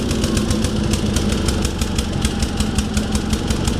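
A Sears SS16 snowblower engine runs cold at -25°C with a stuck choke and heavy overfueling. Its loud, close, rapid chugging beat stays even and uninterrupted throughout.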